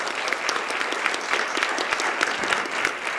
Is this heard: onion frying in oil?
no